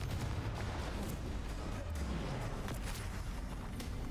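Confringo blasting spell in Hogwarts Legacy, heard as a run of rumbling booms and sharp cracks over dense low-end noise, with quieter thuds and some faint voice sounds mixed in.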